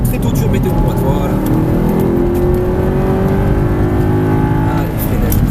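An Audi R8 V8 accelerating around the Circuit du Grand Sambuc, its engine droning loud and close with rising harmonics throughout, heard from inside the car.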